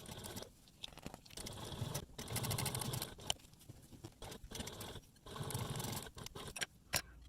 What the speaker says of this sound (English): you're going to take this to your machine, and on the right side, you want to top stitch at a 1/8 seam allowance from the top folded edge